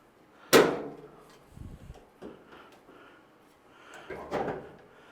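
A Samsung dryer door being unclipped and lifted off during a repair: a sharp plastic snap up close, then a few dull knocks and clunks of the panel shifting, and a second rattling clack, with no talk.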